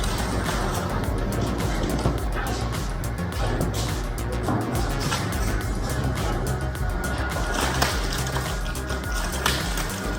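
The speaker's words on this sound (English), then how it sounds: "See how the Quad Q115 industrial shredder tackles the big stuff, turning this unwanted couch into manageable pieces." A Quad Q115 industrial shredder chews through a couch, a loud, continuous grinding rumble with crackling and tearing bursts throughout.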